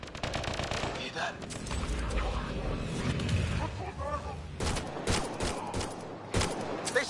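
Rapid automatic gunfire crackles in Mass Effect Andromeda, loud and sustained with dense overlapping bursts and sharper single shots toward the end, under voices talking.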